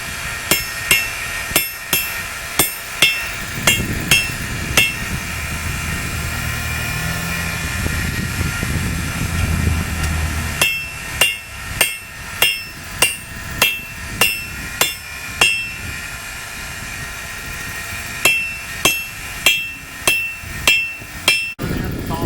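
A blacksmith hammers hot metal at a forge to draw it out. Loud, evenly spaced ringing blows come in several runs over a steady roaring background.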